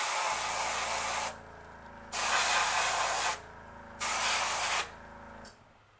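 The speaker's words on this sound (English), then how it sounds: "I was going to spray some right here along the belly." Spray paint hissing from an airbrush or can as it is sprayed along a fishing lure's belly, three loud steady bursts of broadband hiss separated by short pauses, with a faint mechanical hum underneath.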